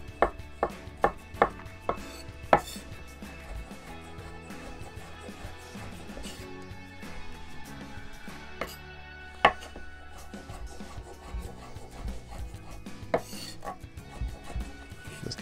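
A knife slices through brown button mushrooms, with a few sharp taps on a cutting board early on, then softer, scattered cuts and occasional louder knocks, close and quiet with no talking.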